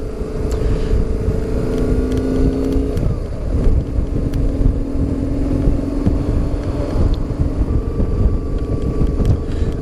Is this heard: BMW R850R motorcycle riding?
yes